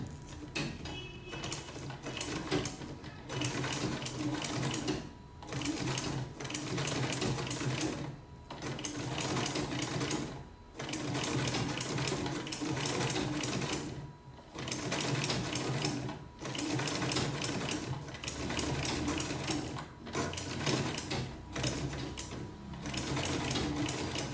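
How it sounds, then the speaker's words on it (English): A manual sewing machine stitching a buttonhole with a buttonhole attachment runs in a steady, fast mechanical whir, pausing briefly every couple of seconds before starting again, close and alone. "Now let's sew."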